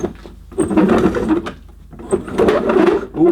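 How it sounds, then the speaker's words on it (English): A 1980s Hoover Sensotronic System 30 vacuum cleaner motor that needs grease runs roughly. It gives two loud, rattling bursts with a brief dip between them, close to the microphone. "let's see how rough this motor sounds"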